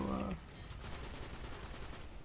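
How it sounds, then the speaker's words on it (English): Gunfire in the sci-fi shooter video game Destiny 2 forms a dense, continuous rattle of rapid shots, steady and fairly loud, following a brief tonal game sound at the start. "I hope you can hear me over the gunfire, by the way"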